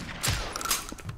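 Gunfire in a Minecraft-style game: a brief burst of a few quick shots, sharp and moderately loud, with no talk over them.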